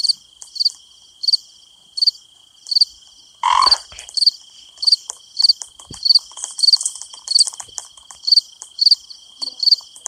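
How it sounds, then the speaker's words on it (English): Frogs croak at night at a campsite in a steady rhythm, a loud call recurring roughly every second, over a continuous high insect trill, with a brief rustle partway through. "Frog."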